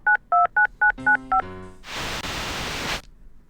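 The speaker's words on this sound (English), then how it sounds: "My new vid phone. Right, let's give him a call then." Video game Tex Murphy: The Pandora Directive, a vid phone call being dialed: six crisp touch-tone beeps in quick succession, a short rising electronic chime, then a second of loud hissing static that cuts off.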